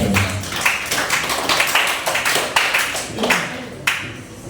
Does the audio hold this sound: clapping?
yes